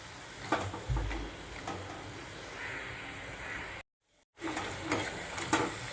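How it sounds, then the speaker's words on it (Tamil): Onion bondas frying in oil over a low flame, a soft continuous sizzle with a few light ticks and knocks, broken by a brief silence before the frying resumes. "போண்டா அந்த மாதிரி சிம்மில் வச்சு வேக விடுங்க"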